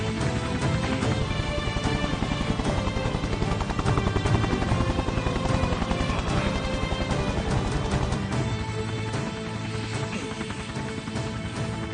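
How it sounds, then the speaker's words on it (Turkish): A helicopter's dense rotor thumping and engine whine fill the whole stretch, loud and continuous, with no voices. "İndir helikopteri."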